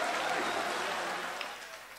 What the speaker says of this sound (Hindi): इनके लिए तालियां बजा दे